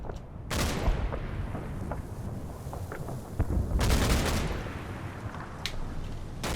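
Gunfire in the WWII tactics game Combat Mission: Battle for Normandy, with sharp bursts and scattered shots over a dense rumbling battle din, loudest in a heavy volley near the middle.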